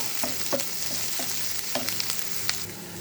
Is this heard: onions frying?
yes